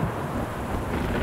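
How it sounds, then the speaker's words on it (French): A rain and wind storm effect in a Bible film makes a dense, steady roar of rushing wind and heavy rain that lasts about a second, with low rumbling beneath. "La pluie est tombée, les torrents sont venus, les vents ont soufflé et ont battu cette maison."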